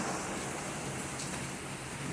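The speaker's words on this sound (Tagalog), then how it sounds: "ang lakas ng ulan na naman dito sa Houston, Texas" Heavy rain falling in Houston, Texas, a dense, steady, loud hiss that fills the whole moment without a break or any voices.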